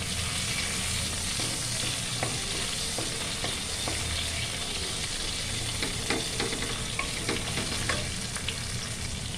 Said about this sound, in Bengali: দিয়ে দিলাম তেলে জিরে ফোড়ন, একটা তেজপাতা, কিছু গোটা গরম মশলা